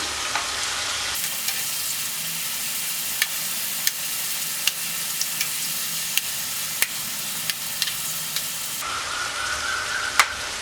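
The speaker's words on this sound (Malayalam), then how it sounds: "മറിച്ചിട്ട് മറ്റേ സൈഡും കൂടെ ഒന്ന് ഫ്രൈ ആക്കണം" Prawns fry in a pan after being flipped for chemmeen roast, giving a loud, steady hiss of hot oil with sharp pops and crackles scattered throughout and no talking.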